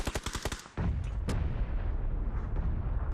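A grenade blast in the shooter PUBG on the Miramar map, one sudden loud broadband burst followed by a sustained rumbling roar with scattered crackling gunfire.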